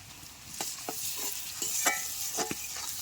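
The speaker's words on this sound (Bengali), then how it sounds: "পেঁয়াজটা আমার ভাজা হয়ে গেছে, এবার আমি রসুন বাটাটা দিয়ে দেব।" Garlic paste hits onions already fried in a pan, setting off a sizzle under a run of sharp stirring scrapes and clacks, close and fairly loud, with no talk.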